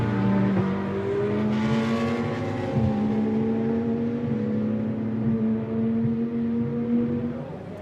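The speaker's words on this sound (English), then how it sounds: "Other KTMs coming out of the pit lane, keeping out of the way." KTM GT2 race cars circle a track in qualifying, engines droning at high revs with rising and falling pitch as they accelerate and shift, heard from a distance at steady moderate loudness without speech.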